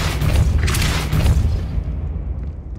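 Depulso force spell cast in the Hogwarts Legacy video game, a loud booming blast with a rumbling low end that fades over about two seconds.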